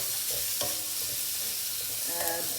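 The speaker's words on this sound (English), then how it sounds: "Add some salt for the onions to brown fast." Onions browning in a pan with curry leaves and salt give a steady close sizzle, broken by a few scraping stirs and clinks of a spoon against the pan, with no voices.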